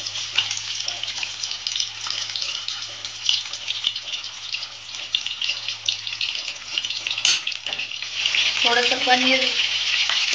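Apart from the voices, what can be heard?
paneer frying in oil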